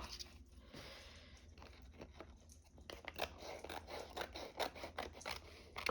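Scissors snip through paper during a journaling craft session, a series of crisp cuts and rustling paper close up, growing busier toward the end.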